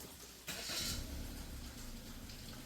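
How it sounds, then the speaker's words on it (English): A 2018 Suzuki Swift RS engine cranks and catches after a short quiet pause, then settles into a steady, close idle with a low rumble that holds to the end. "Then after that I'm going to start the car"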